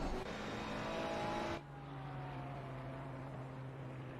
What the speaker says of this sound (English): we see a couple of cars making their way towards the start-finish line.